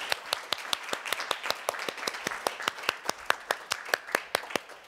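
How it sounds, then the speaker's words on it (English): Orientation audience for an adult and transfer bachelor's program applauding together, a steady run of crisp hand claps at moderate level with no talking. "Give yourselves a round of applause."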